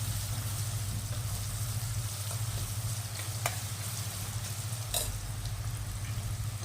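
Onions are stir-fried in a pan for Rajasthani dal bati, with a steady close sizzle and a low hum underneath, broken by two brief clinks of a utensil and no talking.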